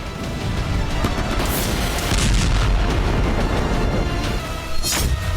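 Explosions tearing down targeted buildings in Lebanon, a dense, continuous roar of heavy booms and crashing debris with a few sharper bursts, loud and unbroken throughout.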